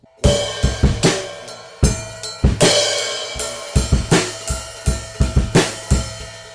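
A drum kit plays a short groove of sharp, punchy hits and cymbal crashes in a steady rhythm, close and loud with no talking.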